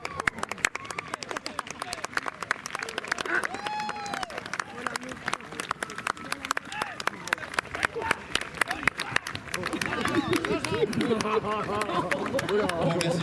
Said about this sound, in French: merci de vos applaudissements chaleureux